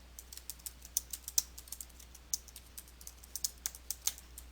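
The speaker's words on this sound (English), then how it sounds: "then type the text using your keyboard" Keys clatter on a computer keyboard as text is typed, a quick irregular run of light clicks close by over a faint steady hum.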